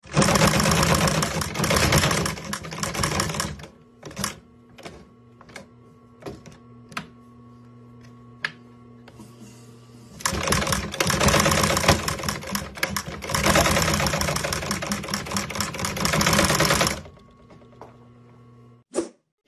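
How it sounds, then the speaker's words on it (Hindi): A sewing machine stitches through wood, running in two long loud bursts of rapid mechanical chatter separated by a few seconds of sparse clicks and knocks. "क्या कभी आपने लकड़ी पर सिलाई करते देखा है?"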